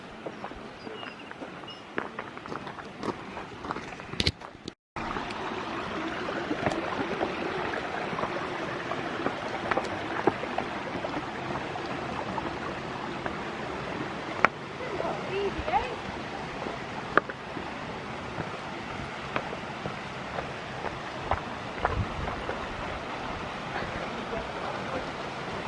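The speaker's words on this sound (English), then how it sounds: "We're here now at the waterfall." Waterfall at Lake Vyrnwy in Wales, a steady broadband rush of falling water close by that runs throughout, with a brief dropout early on and people talking over it.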